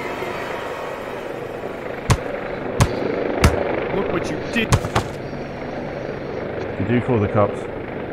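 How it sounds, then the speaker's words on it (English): A helicopter in a VR video game drones steadily under a voice, broken by several sharp bangs and a short burst of rapid shots. "I can hear a helicopter."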